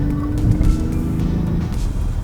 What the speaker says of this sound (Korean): 이 스포츠 모드로 바꾸고 가속 페달을